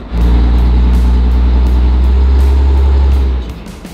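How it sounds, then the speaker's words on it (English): A tank's engine runs loud and close with a deep, steady low roar. It holds for about three seconds and then drops away at the end. "Well, that took a while, but we got a running tank."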